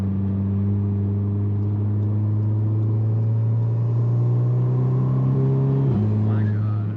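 Big-turbo E85 Audi A3 making around 520 wheel horsepower, accelerating with a loud, steady engine drone and intake roar that climbs in pitch, then drops abruptly as it shifts near the end.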